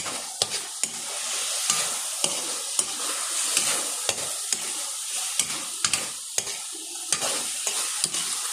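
Sliced chayote sautéing in a pan with a little salt, oyster sauce and liquid seasoning, a continuous crackling sizzle punctuated by sharp regular clacks of a utensil stirring and scraping.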